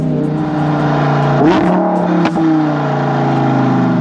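A Lamborghini Huracan EVO accelerates hard on the road. The engine roars loud and close, with a rapid upshift partway through before the revs climb again.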